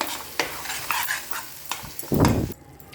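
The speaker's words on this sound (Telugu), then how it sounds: "ఇలా వేగాక మనం చుక్కకూర కూడా వేసేసుకొని మంచిగా కలుపుకోవాలన్నమాట కరివేపాకు వేసి" Sorrel leaves and curry leaves fry in a pan while being stirred, with a close sizzling hiss, intermittent scrapes and clinks, and a louder, heavier stirring burst near the end.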